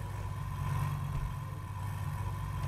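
Rolls-Royce car engine idling in GTA 5, a steady low rumble with a faint hum, fairly quiet and unchanging throughout.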